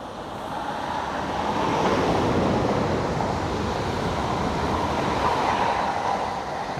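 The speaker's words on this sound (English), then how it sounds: "the noise of trains won't be annoying for me in my garage" A train rumbles past nearby, a broad steady roar that swells in the first seconds and holds, easing slightly at the end, with no talking.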